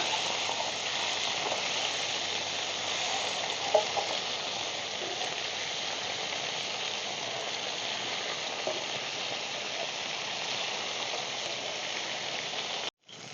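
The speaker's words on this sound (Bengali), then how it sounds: "এই মাছগুলো ভাজা হয়ে গেলে নামিয়ে নেব" Whole small fish (Bombay duck, lote) frying in hot oil in a pan, a steady, dense sizzle that holds evenly throughout with no voices, cutting off abruptly at the end.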